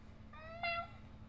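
A pet cat gives a single soft, drawn-out meow, close by but faint, against a quiet indoor hum.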